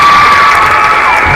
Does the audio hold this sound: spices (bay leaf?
no